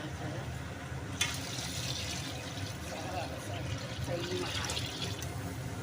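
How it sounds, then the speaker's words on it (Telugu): Water pours steadily into a pot with a continuous splashing, gurgling flow, while a voice talks over it. "ఇప్పుడు వాటర్ అనేది పోసుకుంటున్నాం అనమాట"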